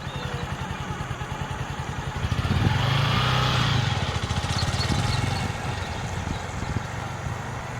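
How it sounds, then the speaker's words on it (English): A learner rider opens the throttle on a motorcycle while easing out the clutch, the steady engine drone swelling louder for a few seconds in the middle before settling back to a lower idle-like rumble. "just giving it a little more throttle and letting out the clutch a little quicker"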